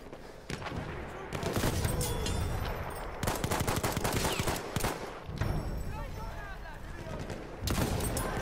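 Sharp Arisaka bolt-action rifle shots and surrounding battlefield gunfire in Battlefield 1 crack loudly in repeated bursts, with dense combat noise filling the gaps between the strongest reports.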